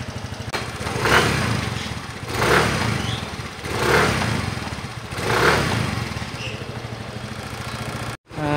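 A Mio i 125 scooter with a 57mm stock engine and upgraded 110cc fuel injector runs on test, idling close by with a steady putter and four slow rises in revs spaced evenly apart.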